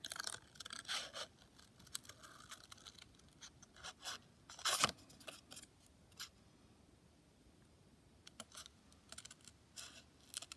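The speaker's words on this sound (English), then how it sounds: "Cut out this kind of wave pattern that I've made here." Scissors cut a wave pattern out of paper for a tessellation, giving a string of quiet, close snips and crisp paper rustles in irregular bursts, with one louder crunch near the middle.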